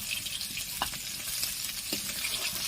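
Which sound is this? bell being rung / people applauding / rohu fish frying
rohu fish frying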